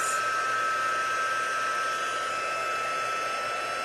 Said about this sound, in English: this is your heat gun. It's got a couple of settings.